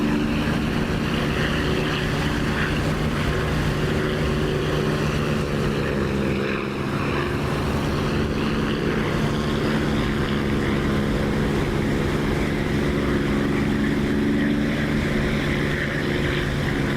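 A propeller aircraft engine in the DCS flight simulator drones steadily and loudly, an even buzzing hum that holds without change throughout.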